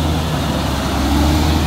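CAT 120K2 motor grader, a 145 hp, 14-ton machine, idles with a steady, loud low diesel rumble heard close up and continuously, with no voices.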